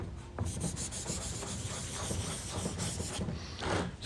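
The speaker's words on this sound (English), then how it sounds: "Just cleaning up the stone." Abrasive rubbing as a gunked-up sharpening stone, loaded with epoxy residue and buffing compound, is scrubbed clean; steady, close scraping strokes continue without pause and no one speaks.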